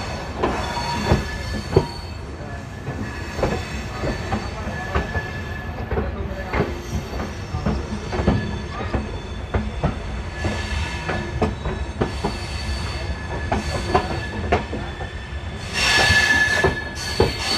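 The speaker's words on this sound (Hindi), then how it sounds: "साहिबाबाद स्टेशन को स्किप करते हुए। यहाँ पे स्टॉप नहीं है, लेकिन यहाँ पे रुकेगी नहीं, चलती रहेगी।" A Jansadharan Express runs slowly through Sahibabad station without stopping, giving a continuous close rumble of rolling carriages with repeated wheel clatter and occasional high squeals from the wheels.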